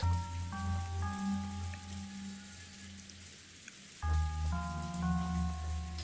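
Heavy rain in the visual novel game Umineko When They Cry, a steady hiss of downpour continuing throughout beneath sustained musical tones that drop out briefly and return.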